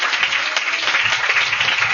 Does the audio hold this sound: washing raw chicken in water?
no